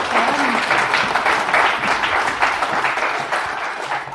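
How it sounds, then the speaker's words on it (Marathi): A large audience at a speech on Savitribai Phule breaks into dense, steady applause, loud and sustained throughout with no clear pauses, while a faint voice sits underneath. "थोड्याशा जोरात टाळ्या वाजून त्यांचं तुम्ही नागवंशीयांचं करावं."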